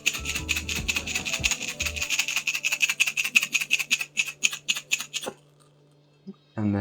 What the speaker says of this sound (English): Give it a good shake.